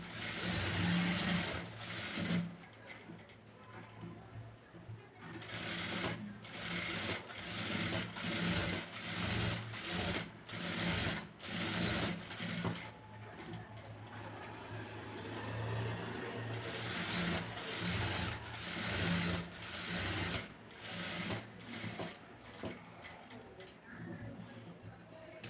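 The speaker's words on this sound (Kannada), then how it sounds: "ಸರಿ, ಹೊಲಿಗೆ ಹಾಕ್ತೀನಿ." A sewing machine stitches around the back neck of a blouse in bursts of rapid mechanical whirring and clatter, stopping and restarting several times, with a voice talking at intervals.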